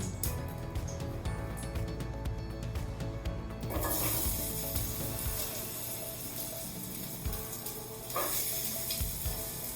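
Chopped leeks hit a hot pan, with water meeting the oil, and burst into a loud, crackling sizzle that shifts and settles into a steady hiss as they cook, with scattered clinks and pops.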